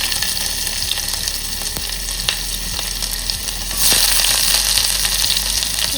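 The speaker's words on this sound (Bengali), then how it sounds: "অনেকটা পেঁয়াজ কেটে রেখেছিলাম যাতে তেল দিয়ে ভাজতে ভালো লাগে, সব পেঁয়াজ দিয়ে দিলাম।" Chopped onions sizzle steadily in hilsa fish oil in a pan, a continuous close frying hiss with occasional stirring clicks, the sizzle growing brighter and louder partway through.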